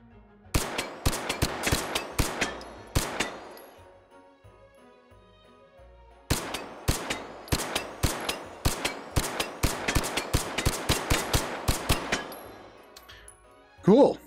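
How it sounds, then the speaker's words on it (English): A long-barrel rifle in the VR game Hot Dogs, Horseshoes & Hand Grenades fires two volleys of sharp, evenly spaced shots, about a dozen each, separated by a short quiet gap, ending with a louder thump. "We'll shoot him anyways."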